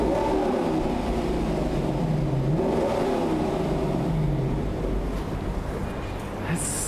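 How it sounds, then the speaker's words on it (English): A loud, steady engine roar with rising and falling revs, the deep throaty note of a Lexus LC500 Convertible's naturally aspirated V8 holding continuously throughout. "that's a typical naturally aspirated V8 sound."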